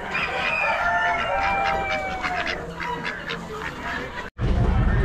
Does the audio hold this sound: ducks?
yes